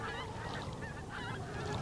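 A flock of migrating geese honks continuously across a night sky, a dense overlapping chorus of calls that stays loud and steady throughout the short stretch.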